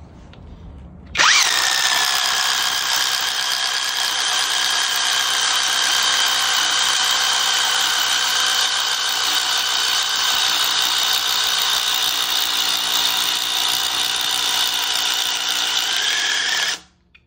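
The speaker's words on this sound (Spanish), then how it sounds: "Este es el pirata en su velocidad máxima con la misma broca de una pulgada." An off-brand impact driver with a one-inch bit runs at full speed, a loud, steady high-pitched whine starting abruptly and holding for about fifteen seconds before stopping.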